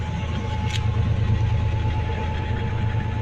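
Engine of a 1989 Chevrolet S10 Blazer with an exhaust leak running steadily, a loud low droning rumble with a faint steady whine and one brief hiss near the start, no talking.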